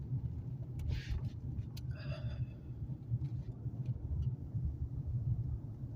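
A car drives along a low-lying waterfront road near boat yards in Old Town as a hurricane approaches, giving a steady, close engine and tyre rumble with no talk.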